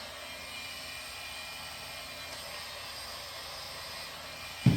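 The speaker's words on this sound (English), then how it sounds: "a lot more power out of this heat gun here" Steady loud roaring whir of a heat gun running continuously, close by, with a brief clunk at the very end.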